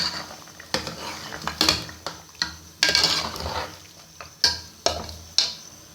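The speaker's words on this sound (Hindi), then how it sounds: "बस सिंपल गोश्त को थोड़ा सा प्याज नरम करके और अब इसमें डाल दूँगी।" Mutton is stirred into softened onions in a cooking pot, giving intermittent scraping and clanking strokes of a spoon against metal over a faint sizzle. The sharp knocks come at irregular intervals, close and fairly loud, with no talk.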